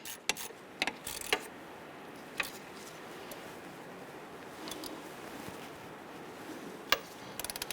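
A ratchet snugs down the strut assembly bolts on a 1994-2004 Ford Mustang, with faint, sparse clicking and metallic ticks in short bursts against a quiet background.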